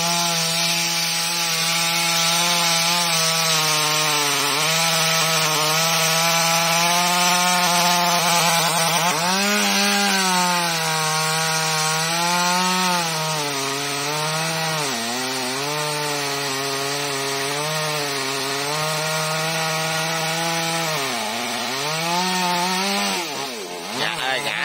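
A chainsaw cross-cuts a large golden wattle tree trunk in mountain country, its engine whining loud and continuous for the whole stretch, pitch dipping and rising repeatedly as the bar bites and eases through the wood.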